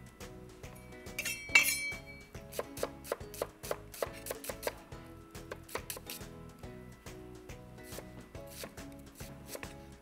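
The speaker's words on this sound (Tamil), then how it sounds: "ஒரு 3 வெங்காயத்தை நல்லா நறுக்கிக்கலாம்." Onions being chopped on a board with a knife while preparing a Kanyakumari fish thokku, a steady run of crisp knife strikes with clinking accents, fairly close and alone without talk.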